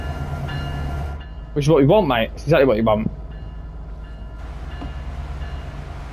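A slow-moving train in a train simulator game on the San Bernardino line near LA, a low steady rumble running throughout with someone talking over part of it.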